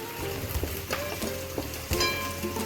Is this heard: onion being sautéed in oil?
yes